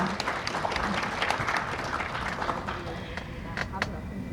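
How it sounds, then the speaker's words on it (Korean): An audience at an ESG forum awards ceremony claps in congratulation for a social contribution prize, a dense moderate applause with low rumble underneath, thinning toward the end. "여러분 축하의 박수 함께 보내주시기 바랍니다"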